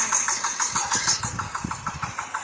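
Homemade tractor fitted with an old motorcycle engine, running with a rapid, regular chugging pulse, loud and close, with no voices over it.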